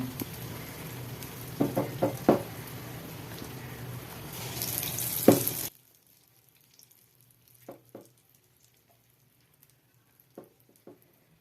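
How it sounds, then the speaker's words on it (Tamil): Urad dal vadas fry in hot oil, crackling and sizzling steadily for several seconds with a few clinks, then cut to near silence broken by scattered faint taps. "இப்போ வந்து எண்ணெயை சூடு பண்ணி போட்டுற வேண்டியதான்"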